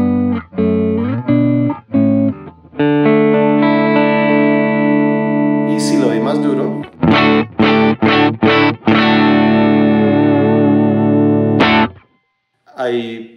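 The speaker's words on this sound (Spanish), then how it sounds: "Se escucha muy parecido a lo que yo uso aquí para grabar en la casa, que es mi Vox AC15 Handwire" An electric guitar through a Vox AC15 Handwire amp with a British setup and slight distortion plays long sustained chords and short stabbed chords, loud and close, with reverb tails and brief pauses between phrases.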